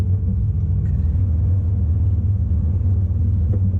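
A Subaru BRZ's engine hums low and steady while the car drives slowly through looping turns, a constant near rumble with no one speaking.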